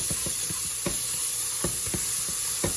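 Vegetables sauteing in a pan for vegetable rice give a steady bright sizzle and hiss, with scattered soft pops and occasional stirring clicks, close and even throughout.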